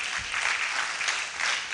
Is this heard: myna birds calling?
no